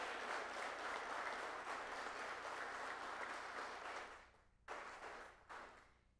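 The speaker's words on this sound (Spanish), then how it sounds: "Yo pido un fuerte aplauso para el señor presidente de la República." Audience clapping for the president of the Republic at a journalism event, a dense steady roar of applause that fades out, then a brief renewed burst before dying down again.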